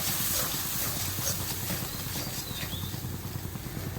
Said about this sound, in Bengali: এখন এই মশলাটা আমি এর মধ্যে ঢেলে দেবো